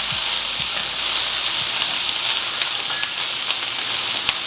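Vegetables for a vegan omelette sauté in a pan, giving a loud, steady, hissing sizzle that runs unbroken throughout, with a few faint clicks and no speech.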